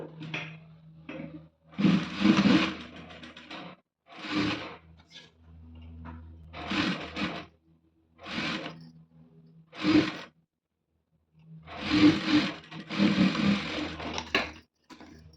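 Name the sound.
sewing machine stitching a readymade blouse neck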